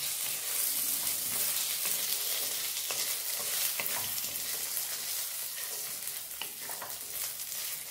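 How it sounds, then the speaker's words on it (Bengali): Chilies and peanuts fry in a hot kadai for a green mango pickle, a continuous close sizzle with scraping stirs and occasional crackles, no talking. "লঙ্কাটাও একটু ফ্রাই হবে, বাদামটা একটু ফ্রাই হবে"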